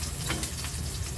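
Garlic sizzles steadily in hot oil in a pan, a close, continuous crackling hiss with no talking.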